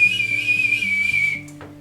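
A person's voice imitates wall outlets whistling in hurricane wind during Hurricane Andrew, with a single steady, high, airy whistle held for over a second before tapering off, close and alone.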